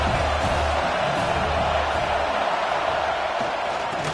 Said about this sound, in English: This crowd with a bolt of energy on 3rd and long.